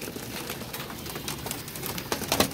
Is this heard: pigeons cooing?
yes